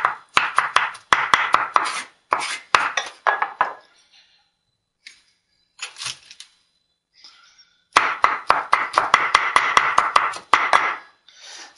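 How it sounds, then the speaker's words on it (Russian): A knife chops garlic and ginger on a cutting board in rapid, close bursts of sharp knocks, with a short quiet pause midway before the fast chopping resumes. "Стараемся чеснок и имбирь измельчать помельче."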